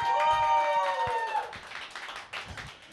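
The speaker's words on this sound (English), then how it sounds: "Round of applause for yourselves one more time" A small audience at a live comedy show gives a thin, scattered round of clapping that tapers off, following a sustained tone that fades early on.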